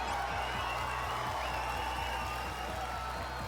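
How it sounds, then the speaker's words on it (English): A crowd applauds in the video game Tribe Nine, steady dense clapping layered over looping game music with a regular low beat, continuous for a few seconds. "Intense clapping."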